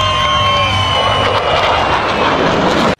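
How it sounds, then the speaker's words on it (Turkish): SoloTürk jet aircraft flying an aerobatic display over a lake in Gaziantep, a loud sustained engine roar with a high whine that holds steady throughout, then cuts off abruptly at the end. "Solo Türk ekibi Gaziantep Alleben Göleti üzerinde yaptığı uçuşlarla nefes kesti"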